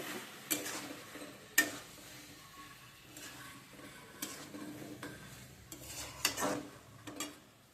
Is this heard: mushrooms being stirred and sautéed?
yes